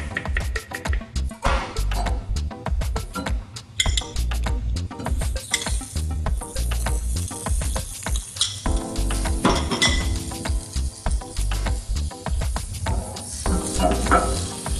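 Sauce ingredients are stirred in a bowl with a utensil for mamzama, producing continuous rapid clinking and scraping, loud and close, with no talk.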